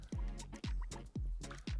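Water poured over a Nanuk 935 waterproof carry-on hard case, heard close up as a series of wet splashes and drips arriving about every half second.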